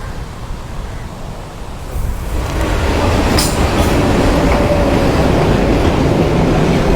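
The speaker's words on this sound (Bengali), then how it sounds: "সমুদ্রের পাশ ঘেসে যে ট্রেনটা চলছে একদম ট্রেনের কিনার ঘেসে চলার সুযোগ পেয়েছি" A train running along the seaside in Sri Lanka roars loudly and steadily from close by, growing louder after the first two seconds, with rumbling wheels and a faint squeal on the rails.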